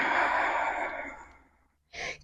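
A single long exhale through the mouth during an arm-pumping breathing exercise, a soft airy sigh that fades out over about a second, followed by a brief short breath after a pause.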